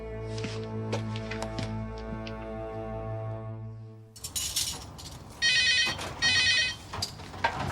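A telephone rings repeatedly in two-burst electronic trills, loud and close, in a plumbing business office, after a stretch of other tonal sound.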